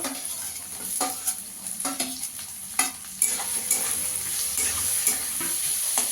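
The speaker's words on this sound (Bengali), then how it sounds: "পেঁয়াজটা দিয়ে একটু ভেজে নেবো আগে" Chopped onion fries in a pan for ghugni, with a loud, continuous sizzle broken by repeated scraping strokes of a spatula stirring close by.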